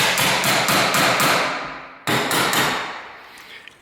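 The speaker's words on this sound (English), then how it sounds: "Drop it in the hole and chisel up." Hammer blows on a chisel cutting a door latch recess, with about six sharp, loud, evenly spaced strikes followed by a single heavier hit and a ringing decay, close by with no talk.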